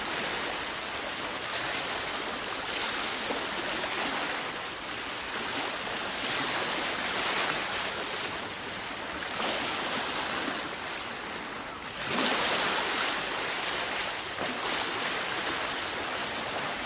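Sea waves breaking near a sea wall over a small sandbank, a steady hissing surf with periodic swells rising and falling every few seconds, moderately loud and continuous.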